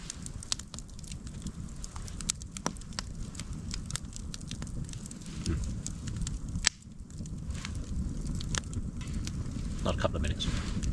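Firewood burning in an outdoor forest campfire, scattered sharp crackles and pops over a low rumble of wind, with one louder snap midway.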